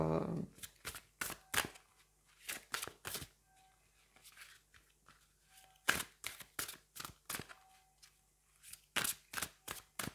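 Tarot cards are shuffled and drawn close up, making a quick run of crisp flicks and riffles in irregular clusters with brief quiet gaps between.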